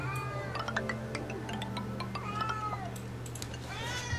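A house cat meows several times in a closed recording room, short rising and falling cries scattered over a few seconds, moderately close against a low steady hum.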